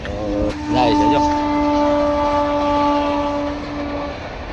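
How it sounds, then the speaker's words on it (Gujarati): A train passes at a road level crossing between Chandrapur and Nagpur, its loud multi-tone horn sounding steadily for several seconds over the rolling rumble of the cars, close by, with voices and traffic noise around. "ટ્રેન આવી ગઈ છે"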